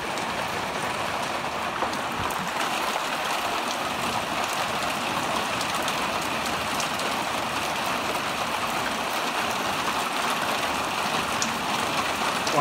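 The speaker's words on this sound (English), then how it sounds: "I love this rain." Warm pre-summer rain pours down outdoors in Sunland, a dense, steady wash of drops on surfaces that stays loud and constant from start to finish, with no voices.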